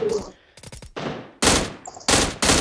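Gunfire in the PUBG Mobile video game: a quick burst of several close shots, then loud sustained bursts of automatic fire, with a faint voice and gaps between them.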